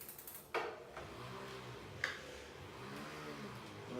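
Tacx Blue Matic indoor bike trainer running in a home, a faint steady mechanical whir with a low rolling hum and a couple of light clicks, quiet throughout with no voices.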